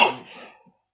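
A single close sneeze bursts out sharply, then fades away in under a second, leaving silence.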